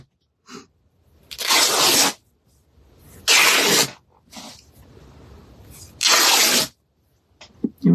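Scissors snip through fabric to cut two strips about an inch wide for a heart garland craft, giving three long, loud shearing cuts with short handling noises and pauses between them, close up and with no talking.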